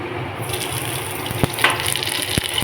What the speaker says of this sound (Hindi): तो इसमें मैं पानी डाल दूंगी